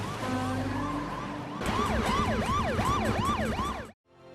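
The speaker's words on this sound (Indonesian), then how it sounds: "Dan sirine pun berbunyi dengan sangat elegan." A police car siren from a film wails in a rising and falling pattern, loud and close, after a blended, busier stretch of film sound at the start.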